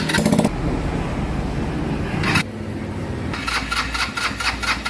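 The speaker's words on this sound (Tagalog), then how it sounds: "Sumasama na yung kanyang starter." The electric starter on a Rusi Gala 125 motorcycle with a weak battery cranks the engine in loud, close, rapid whirring bursts, stopping briefly and then cranking again with a pulsing rhythm.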